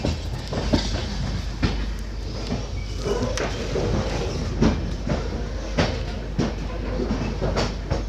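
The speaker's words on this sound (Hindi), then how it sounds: "पीछे से भी एक ट्रेन आ रही है" A passenger train rolls along the tracks at a railway station platform in India, near Delhi. Loud, continuous rumble with a rhythmic clickety-clack of wheels over rail joints, heard alone.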